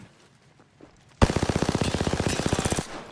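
Enemy automatic gunfire in a video game: a rapid burst of around twenty evenly spaced, loud shots bursts in after a quiet moment and cuts off sharply, leaving a fading tail.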